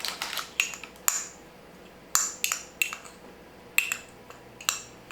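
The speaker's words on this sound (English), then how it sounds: "a little onion powder, and some pepper. And then just stir it up." A utensil stirs a seasoned mixture of onion powder and pepper in a bowl, producing a series of sharp clinks and taps in irregular clusters, close and moderately loud.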